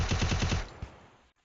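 A rapid burst of automatic gunfire from the Free Fire video game, about eight fast shots in under a second, followed by a single later report and a fading tail.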